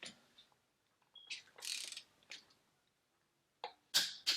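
A torque wrench tightens a bolt on a 2JZ engine to 65 foot-pounds, giving several short, sharp ratcheting bursts close by, with brief pauses between them and a final louder click.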